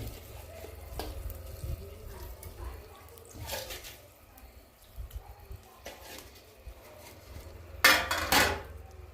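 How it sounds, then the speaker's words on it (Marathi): Soft sizzling of chicken frying with masala in a clay pot, with occasional clinks and scrapes of a spoon stirring; faint and low, louder near the end. "चिकन मसाले सर्व एकत्र हलवून घ्यायचे"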